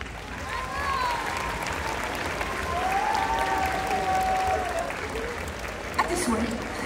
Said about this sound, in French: Allez, on applaudit encore une fois.